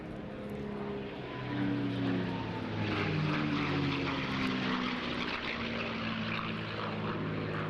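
A propeller aircraft from 1951-era Royal Canadian Air Force service drones past at an airshow, its engine hum swelling to a sustained middle-distance peak with shifting tones, then holding steady without voices.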